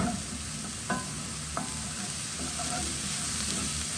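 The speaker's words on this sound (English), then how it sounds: "Gonna let those fry just for a second" Vegetables for a chickpea curry sizzle and fry steadily in a pan, a continuous close hiss broken by a few brief stirring scrapes, with no talking.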